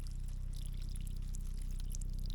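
Water pouring steadily from a homestead well pipe after a few more feet were added, a continuous rushing flow with a low hum underneath, close and unbroken throughout.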